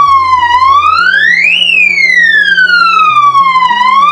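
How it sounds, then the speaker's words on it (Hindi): A loud electronic siren from an access control system wails, its pitch sweeping up and down in a continuous rising and falling cycle, close and alone. "यहां से डायरेक्टली मैं सायरन बजा सकता हूं, यानी कि अगर मुझे डायरेक्टली अलार्म करना है"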